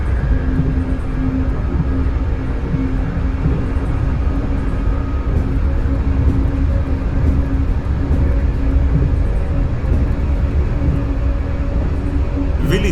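A Dutch DDZ double-decker train cruising in Train Simulator 2021, giving a steady, loud whining roar with a constant low rumble and a sustained tone, evenly droning throughout like a jet engine.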